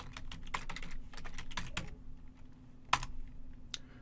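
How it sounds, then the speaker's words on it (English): Fingers tap out a command on a computer keyboard in a quick burst of close, crisp key clicks, pausing briefly before a louder final keystroke like the enter key, with a low steady hum underneath. "type the workspaces command and press enter"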